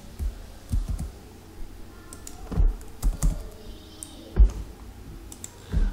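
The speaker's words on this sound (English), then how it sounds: "I just quickly typed over here." Keys on a computer keyboard are typed in short irregular bursts of clicks with quiet pauses between them. Nobody speaks.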